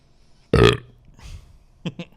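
A single loud, wet burp rises abruptly, followed by a softer exhale and two short quiet vocal sounds, close to the microphone in an indoor podcast setting.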